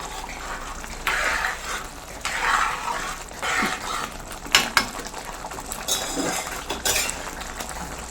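A spoon scrapes and clinks against a pan while mackerel masala is stirred in a Kerala kitchen, giving intermittent metallic scraping strokes and sharp taps over a low background hum.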